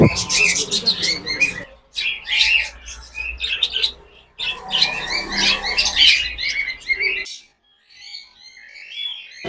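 Busy, overlapping chirps and tweets of Java sparrows in a bird shop, in bursts, fairly close, with brief quiet gaps between flurries and a faint low background hum.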